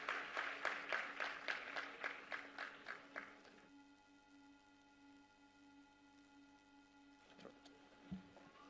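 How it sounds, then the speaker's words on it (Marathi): Clapping from an audience at a Women's Day event, dense and rhythmic for about three seconds and then stopping, leaving a quiet hum in the hall. "एकदा रुपालीताई चाकणकर यांच्यासाठी जोरदार टाळ्यांचा वर्षाव करूया मंडळी"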